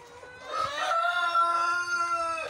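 A single rooster crow rings out close by, a long drawn-out call that rises and holds before trailing off.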